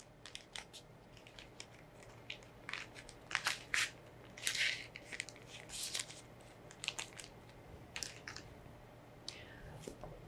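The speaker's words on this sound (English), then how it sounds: "place them back in the plastic bag." Filter paper cards from a home test kit slipped into a plastic bag, giving soft crinkling and rustling handling noises in short bursts, quiet and close.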